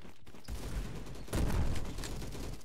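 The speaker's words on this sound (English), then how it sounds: "One of the better shotguns." A shotgun fires in a video game, with two loud close blasts about a second apart, each followed by a short rumbling tail over quiet game ambience.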